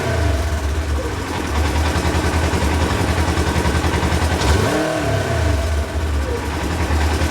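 A 2022 Polaris RZR Trail S engine, leaking a fog of oil, runs loud and close with a rough, pulsing throb and a brief rev in the middle.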